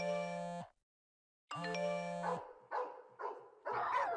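Cartoon dog barks from an animated comedy: a sustained harmonic tone breaks off, returns, then gives way to several short, loud bark-like bursts in quick succession, alone without talk.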